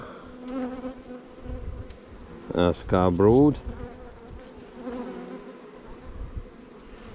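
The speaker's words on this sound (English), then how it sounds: "Full of bees, cab brood in the middle." Dense, close buzzing of many honey bees on hive frames with capped brood throughout, with a person speaking briefly in the middle.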